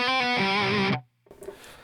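Distorted electric guitar playing part of a song, a fast run of picked notes lasting about a second and cutting off abruptly, followed by faint noise.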